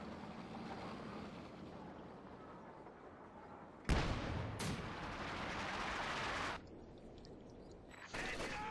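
Artillery shells in Company of Heroes 2 strike with loud broadband blasts, one big pair at mid-clip and another near the end, over a steady rumbling battlefield bed.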